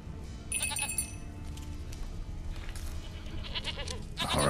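Goat bleating in The Witcher 3: Wild Hunt, a few close, wavering bleats that repeat through the stretch, with outdoor game ambience.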